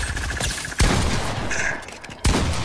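Rapid gunfire bursts from the video game Fortnite, with dense crackling volleys and two sharp, loud blasts standing out near the middle and end, sounding close and continuous without any talk.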